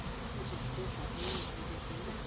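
Honey bees hum around an open hive during a varroa mite inspection, a faint, steady buzzing that swells briefly as a bee passes close.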